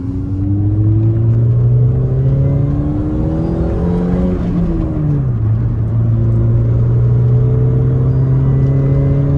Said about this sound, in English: The car is warmed up, by the way, so I wouldn't normally drive like this.